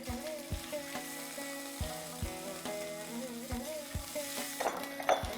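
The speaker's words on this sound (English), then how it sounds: "Now I'm going to add a teaspoon and a half of ginger garlic paste." Ginger garlic paste sizzling in hot oil with browning broken cashews, a bright steady crackle and hiss punctuated by regular clinks of a spoon stirring against the pan.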